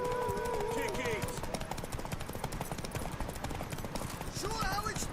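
Horse hooves in The Witcher 3, a quick, continuous clip-clop of galloping under dense game sound and voices speaking throughout.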